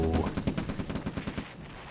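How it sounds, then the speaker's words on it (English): Video game gunfire strikes a war factory under attack: a rapid, rhythmic run of sharp shot-like bursts, fairly loud and close, fading slightly toward the end. "Cotton's war factory under attack."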